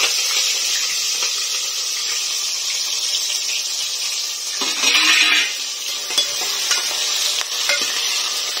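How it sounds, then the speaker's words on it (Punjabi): Cumin and karhi masala fry in oil left over from making pakoras, a steady, close sizzle and hiss that swells for a moment partway through as more goes into the pan and it is stirred. "ਜਿਹੜਾ ਪਕੌੜਿਆਂ ਦਾ ਤੇਲ ਬਚਿਆ ਅਸੀਂ ਉਹਦੇ ਵਿੱਚ ਹੀ ਜੀਰਾ ਭੁੰਨਣ ਲੱਗੇ ਹਾਂ"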